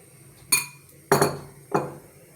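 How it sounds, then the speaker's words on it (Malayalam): Cake batter being stirred in a bowl: three distinct sharp clinks of a utensil striking the bowl, spaced about half a second apart, close and fairly quiet with no talking. "ഇനി നമ്മൾ ഈ ഇതുകൊണ്ട് ഇളക്കി കൊടുത്താൽ മതി"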